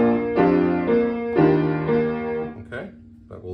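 Piano left-hand accompaniment to a song, a few sustained low notes and chords struck in slow succession, close and moderately loud with no talking.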